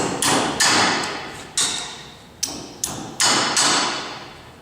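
Metal pin is tapped back into an oilfield wireline lubricator, about six or seven sharp, close knocks at an uneven pace, each ringing briefly and fading, with no talking.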